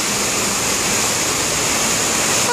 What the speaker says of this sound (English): have to wait until the rain stops